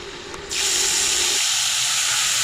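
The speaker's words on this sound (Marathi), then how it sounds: "आता लसूण घातली इकडे फोडणीला" Garlic dropped into hot oil for a Malvani-style tempering sets off a sudden burst of sizzling hiss that stays steady and close after a quiet start.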